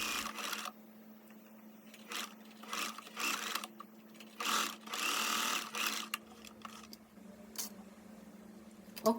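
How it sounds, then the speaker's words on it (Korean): A sewing machine stitches the shoulder seam of a linen A-line dress in several short bursts of fast mechanical whirring, with brief pauses between them, heard close up and alone. "어깨 시접을 봉제해 보겠습니다."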